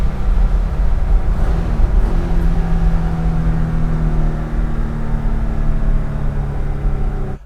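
A 1974 Porsche 911 flat-six pulls hard under steady acceleration, a loud continuous drone heard from inside the car that rises gradually in pitch without a break.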